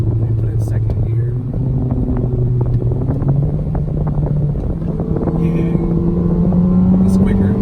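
2013 Honda Accord Sport pulling hard in second gear, a steady engine drone that rises slowly in pitch as it accelerates, heavy road and wind roar throughout, with speech mixed in.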